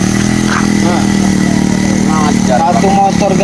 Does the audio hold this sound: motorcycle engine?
yes